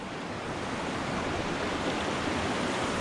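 Snowmelt from high mountains above 10,000 ft rushes down a stream from a waterfall, making a loud, steady, broadband roar with no breaks or voices.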